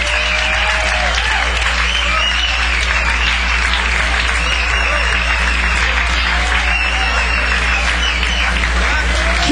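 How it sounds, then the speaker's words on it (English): Steady, dense applause fills a blues club at Antone's, clapping and crowd noise sustained evenly for the whole stretch as the audience cheers the band. "How about a nice round of applause for the band?"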